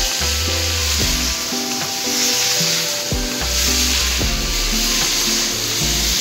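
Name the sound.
frying ivy gourd in a little oil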